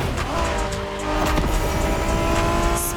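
A Honda NSX, the 1990s sports car, driving in the racing game The Crew Motorfest: a steady engine drone with tire noise, loud and continuous throughout with no voices.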